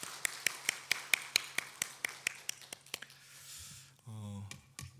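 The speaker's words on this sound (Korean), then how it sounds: "우리 다시 한번 박수 크게 하도록 하죠." A church congregation claps in a steady, even rhythm, a dozen or so sharp, close claps about three per second. The clapping stops and a voice begins speaking.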